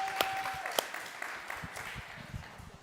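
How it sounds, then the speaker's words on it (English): Faint, distant applause with scattered claps, soft and thin throughout. "let's clap for them."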